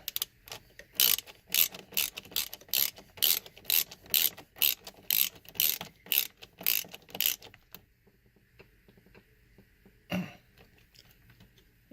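A ratchet tightens Torx bolts during a horn repair on a 1999 Toyota Sienna, giving a steady run of about twenty crisp, close clicks. The clicking then stops, leaving near silence broken by a single soft knock.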